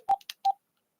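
Three short electronic keypad beeps from an old mobile phone, clear and close, in quick uneven succession with silence afterward.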